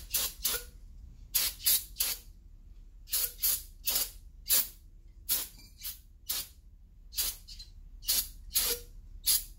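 Brake cleaner sprayed in short hissing bursts from an aerosol can during driveshaft removal on a 1994–2004 Mustang GT, about a dozen separate spritzes in an irregular rhythm, close and fairly quiet, with no talking.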